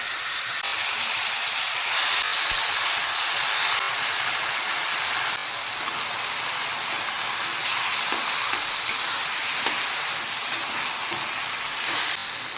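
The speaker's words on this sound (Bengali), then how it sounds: "কচু শাকটা জল ঝরিয়ে রেখেছিলাম, এবার একটু দিয়ে দেবো" Drained taro leaves fry in hot oil with a steady, bright sizzling hiss that stays close and constant, easing slightly partway through, with a few faint stirring knocks.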